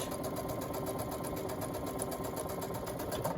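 Sewing machine running steadily while stitching a wrist sling with a 1/4 inch seam, laser guide light on, a continuous even mechanical whir with rapid rhythmic needle pulses, close and moderately loud throughout.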